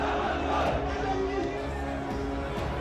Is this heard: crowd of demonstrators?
yes